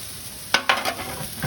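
Sugar snap peas and sweet peppers sautéing in a hot pan, a couple of sharp tossing bursts over a faint sizzle, close and fairly loud.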